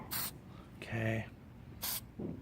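Paint is sprayed on as a coat in two short, close hissing bursts, separated by a moment of a person speaking.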